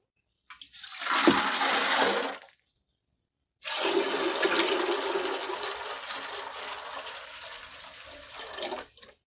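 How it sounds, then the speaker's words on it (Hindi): Soaked kidney beans (rajma) tipped into a cooking pot together with their soaking water: a short splashing gush, a brief pause, then a longer, steady pour that slowly tapers off. No one speaks. "राजमा को हमने जिस पानी में भिगो के रख दिया था, हम इसको पानी के साथ ही डाल देंगे"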